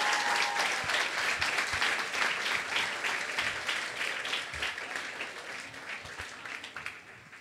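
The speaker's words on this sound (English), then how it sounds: "Give yourselves a round of applause." Students at a school young leaders assembly clap together in a broad, continuous wash of applause, with scattered sharper claps standing out, slowly tapering off in volume.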